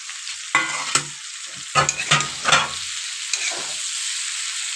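Eggplant and potato pieces frying in fish oil in a pan are stirred. A steady sizzle runs throughout, with several sharp spoon scrapes and clatters bunched in the first three seconds. No one speaks.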